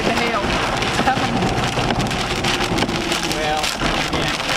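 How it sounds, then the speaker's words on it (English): Hail and heavy rain batter steadily during a severe thunderstorm in northern Oklahoma, a dense loud patter throughout, with voices talking over it. "Heard the hail. It's coming."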